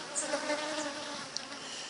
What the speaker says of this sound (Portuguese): muitas abelhas você encontra em locais que vendem caldo de cana